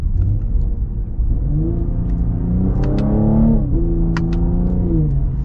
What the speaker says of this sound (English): When you go full throttle, it's even snappier with the shifts. Yeah, I like how this sounds so much more.